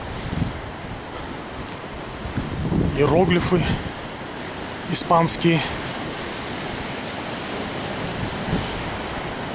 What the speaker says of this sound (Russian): И, конечно, океан. Сумасшедший, безумный, страстный океан.